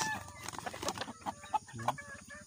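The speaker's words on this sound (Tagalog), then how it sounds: "Dami chicken." Gamecock chickens clucking in a backyard, several soft clucks and short calls close by, with low background noise and no speech.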